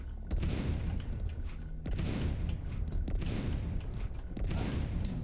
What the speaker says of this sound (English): Rolled into the explosion